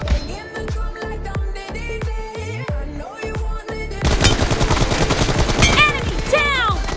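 Rapid automatic gunfire in a Unity shooting video game, loud bursts of repeated shots that grow denser and heavier in the second half, with game voice lines over the top.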